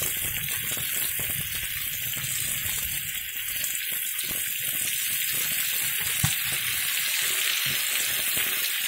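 Meat frying in a cauldron over a campfire outdoors, a loud, steady, close sizzle and crackle that fills the whole stretch with no talk over it.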